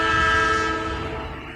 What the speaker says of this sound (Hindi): रमेश हल्के से ब्रेक लेता है और हॉर्न दबा देता है।